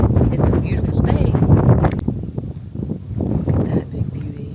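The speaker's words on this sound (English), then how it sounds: "It's very windy out here today" Gusty wind at Lake Apopka on a very windy day, buffeting the microphone with a steady low rumble, heaviest in the first two seconds, while a person talks over it.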